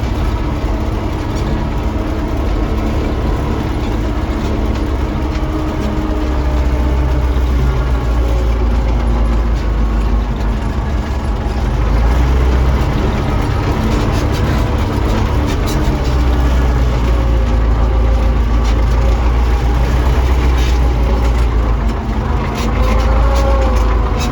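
A YuMZ tractor strains uphill pulling an AG 2.4 implement, its heavy diesel engine droning loud and close throughout with a low rumble that swells and settles.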